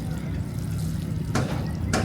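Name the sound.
draining water from boiled macaroni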